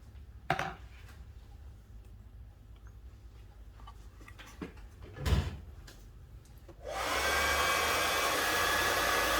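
Scattered knocks and a thump come first, then a hair dryer switches on to dry a painting and blows with a loud, steady whoosh to the end.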